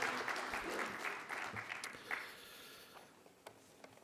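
An audience at a policy forum in a hall applauds as a party leader comes up to the podium. The applause is full at first, then thins out and fades to a few scattered claps.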